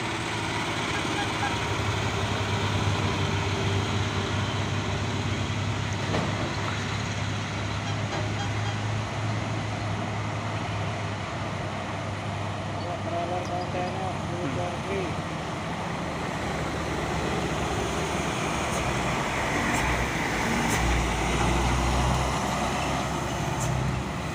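A trailer truck hauling Kobelco heavy equipment rumbles past on a dusty road, a steady loud low engine drone that swells toward the end, with someone talking over it.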